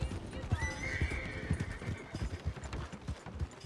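In Red Dead Redemption 2, a horse gives a clear rising whinny while hooves clip-clop steadily underneath, the neigh prominent near the start and the hoofbeats continuing in an even rhythm.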